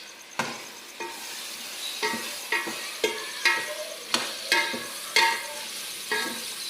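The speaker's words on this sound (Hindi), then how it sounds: "अब थोड़ा सा हमने टमाटर के अंदर उसको फ्राई करना है।" Tomatoes with spices frying in a pan, stirred in steady strokes about once a second, each scrape rising over a continuous close sizzle, with no voices.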